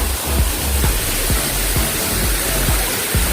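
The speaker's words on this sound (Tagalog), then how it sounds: "And ito yung pinaka-falls." Batlag Falls waterfall in Tanay, Rizal, roars as a steady, dense rush of falling water, loud and continuous from start to finish.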